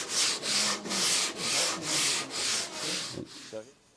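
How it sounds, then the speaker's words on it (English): Hand sanding of shaped wood with 80-grit sandpaper, heard as about eight steady rhythmic back-and-forth scrubbing strokes, close and fairly loud, then a few light knocks at the end. "you can go right to sanding like with 80"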